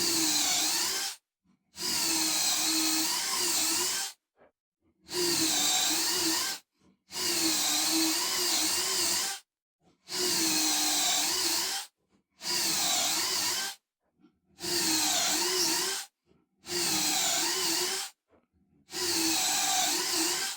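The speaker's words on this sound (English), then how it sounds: "We're going to drill 2 pocket holes in each apron piece." A power drill bores pocket holes in wooden apron pieces for an ottoman, heard as eight loud, steady whining bursts of one to two seconds each, separated by short silences, close by and with no talking.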